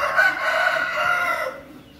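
A jalur-breed rooster crows loudly and close, one long drawn-out call that fades near the end, with no talk over it.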